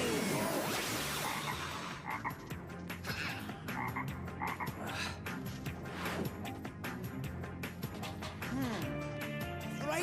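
A cartoon toad croaks over and over in a loud, rapid run of sharp, rhythmic croaks, mixed with voices and other background sound.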